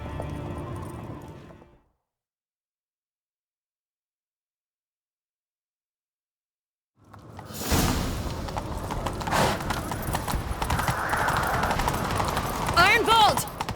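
Horse hooves galloping during a chase in The Witcher 3, starting after a silent gap as a fast, rumbling run of hoofbeats mixed with dense game sound, with voices briefly heard.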